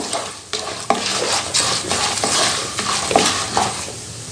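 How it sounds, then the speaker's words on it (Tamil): A spoon scrapes and stirs turmeric powder into hot oil in a pan, repeated close scraping strokes over a soft sizzle. "இப்போ இதில் நம்ம கொஞ்சமாக மஞ்சள் பொடியை சேர்த்துட்டு அப்படியே எண்ணெயோடய கலந்து விட்டுக்கோங்க"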